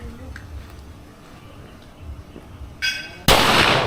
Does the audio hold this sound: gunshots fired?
yes